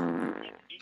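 A loud, low, buzzing fart, sustained and rough for most of a second, tapering off near the end with no talk over it.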